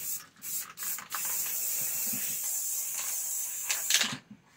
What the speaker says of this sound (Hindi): और एक सर्टेन डिस्टेंस से हम स्प्रे करेंगे।